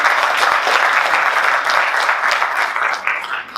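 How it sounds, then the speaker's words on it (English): A conference crowd at the IBC 2019 keynote claps for the speakers, loud, dense and sustained applause close up that thins slightly toward the end. "we could give all of our speakers a big round of applause"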